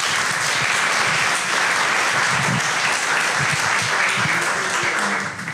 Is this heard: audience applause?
yes